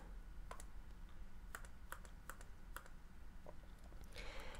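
Buttons pressed on a TI-84 Plus calculator: a sparse series of about ten quiet, crisp clicks at an irregular pace, faint and close.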